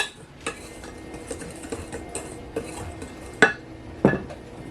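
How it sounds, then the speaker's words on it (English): A utensil scrapes and clinks against a bowl while dry donut ingredients, including fresh-milled flour, are stirred together, giving soft rhythmic taps and a few sharper knocks, close up and fairly quiet. "I'm just going to mix this together"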